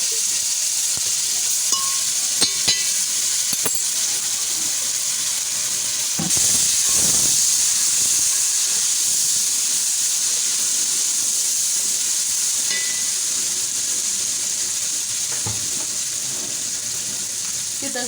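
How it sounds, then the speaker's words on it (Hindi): Garlic-ginger paste sizzles in hot oil in a pan along with onion, a constant hissing fry that surges briefly as it hits the pan, with occasional utensil knocks and no talking. "अब हम लहसुन अदरक का पेस्ट डाल देते हैं।"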